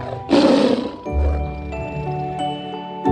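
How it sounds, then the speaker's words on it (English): A tiger gives a single loud roar lasting under a second, followed by a bright, tinkling chime-like tone with low rumbling underneath, all near and without speech. "T is for tiger."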